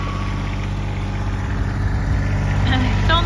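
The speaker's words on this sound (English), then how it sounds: "And this is a three-cylinder diesel." Kubota RTV1100 4x4 utility vehicle with an enclosed cab and a three-cylinder diesel engine idling, a loud, steady low rumble heard close up with faint talk over it.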